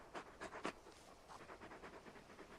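A large wolfhound-like companion dog pants in Final Fantasy 16, fast rhythmic breathy huffs up close and fairly quiet, with no talk over it.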